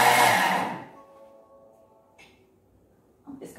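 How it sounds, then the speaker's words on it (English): A food processor grates cheese into a mixing bowl, a loud, dense whir that lasts under a second and then spins down into a fading hum, followed by a faint clunk and a short rustle. "I'm just going to put some cheese into the mixing bowl and we're just going to grate this."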